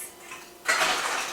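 Ice cubes rattle and clink into a cocktail shaker while a Southern Comfort Manhattan is being mixed, a sudden bright burst of clattering near the middle of a short, otherwise quiet moment.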